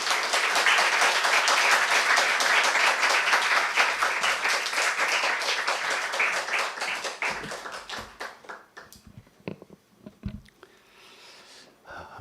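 A church congregation at an autumn revival service claps loudly to welcome the guest speaker, dense sustained applause that thins into scattered claps and fades toward quiet by the end.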